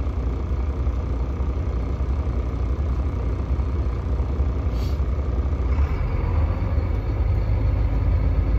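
A heavy cargo truck's diesel engine runs steadily inside the cab, a loud continuous low rumble with no talk over it.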